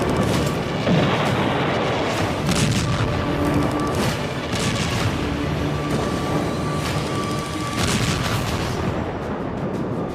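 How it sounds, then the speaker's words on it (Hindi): Russian missile strikes on Ukraine, a dense and loud continuous roar of blasts and rumbling booms with repeated heavier impacts throughout, no voices. "रूसी राष्ट्रपति व्लादिमीर पुतिन ने यूक्रेन पर मिसाइलों की बौछार कर दी।"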